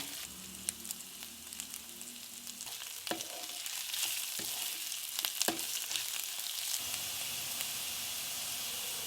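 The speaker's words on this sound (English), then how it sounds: "Stir fry them on low flame until your onions are golden brown" Onion and ginger garlic paste stir-frying over a low flame, a steady soft sizzle with scattered crackles and a few sharp spatula scrapes against the pan, heard close and alone.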